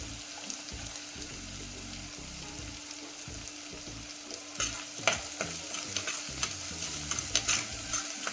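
Onions sauté in a pan before amaranth stem greens go in, a soft steady sizzle with spatula scrapes and clicks that grow busier in the second half, no talking.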